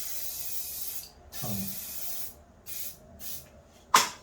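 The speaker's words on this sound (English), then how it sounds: "I will actually spray this, spray the face" A fixative spray can hisses over the face of a charcoal drawing in several short bursts of varying length, close and clear, and a voice speaks briefly between them.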